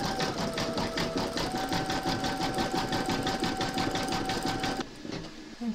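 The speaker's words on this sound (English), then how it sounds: "we're now going to pop our hoop into our machine and stitch round number 2 to secure it" An embroidery machine runs steadily through an in-the-hoop applique placement stitch, a fast even needle rhythm with a whining motor tone, close and loud, stopping abruptly near the end.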